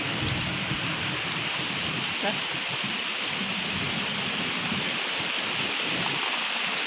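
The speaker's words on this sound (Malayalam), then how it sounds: "നല്ലപോലെ പെയ്യാൻ തുടങ്ങി കേട്ടാ നമ്മുടെ മഴ നല്ലപോലെ പെയ്യാൻ തുടങ്ങി" Heavy summer rain pours steadily in a dense, continuous hiss that runs unbroken throughout, with a faint low rumble of thunder far off in the background.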